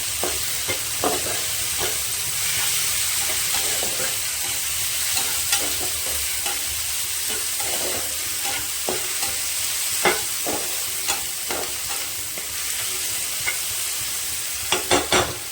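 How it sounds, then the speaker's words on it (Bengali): Tomatoes with salt softening in a pan give a steady sizzle throughout, with scattered scraping clicks of a utensil stirring them, close and fairly loud. "টমেটোটা হালকা গলতে থাকুক, একটু নরম হয়ে যাবে।"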